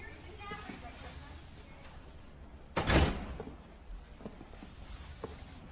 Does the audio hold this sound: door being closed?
yes